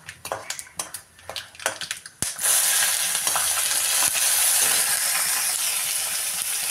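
Chopped onion goes into a pan where peanuts are already frying. Scattered stirring clinks are followed by a sudden loud, dense sizzle that holds steady, close up, with no voices.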